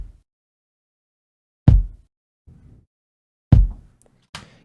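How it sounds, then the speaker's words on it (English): An uncompressed kick drum, heard alone as two isolated thumping hits each followed by a softer short tail, with silence between them and a small click at the end. "This is a kick."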